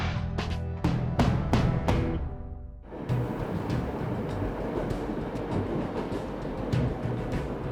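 A train rolling along an active rail line, a loud rumbling pass with rhythmic clacks at first, then a dense steady roar of cars going by close.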